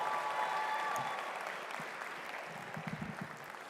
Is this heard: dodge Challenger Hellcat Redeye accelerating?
no